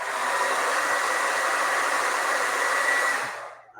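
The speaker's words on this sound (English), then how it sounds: "you can speed up the process like I did by using the hair dryer" A hair dryer blows a steady, loud hiss of air over a freshly printed eco-solvent ink sheet, running continuously and then cutting off near the end.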